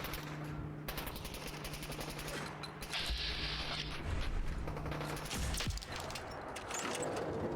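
Rapid bursts of automatic gunfire and single shots crackle in the video game Fallout 4, with mechanical clicks and a steady background tone between volleys; no talking.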